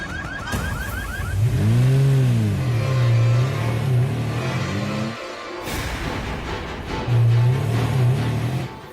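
A car engine fires up with a rising rev, holds a steady drone, cuts out briefly, then revs again as the vehicle pulls away; close and loud, with no talk over it.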